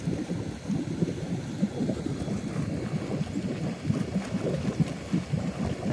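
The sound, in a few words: pool return jets blowing out during winterizing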